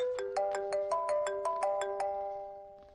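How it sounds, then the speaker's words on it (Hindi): A mobile phone ringtone plays a bright, chiming electronic melody of evenly spaced repeating notes, clear and alone, fading slightly toward the end. "आपको किसी का फोन आ रहा है"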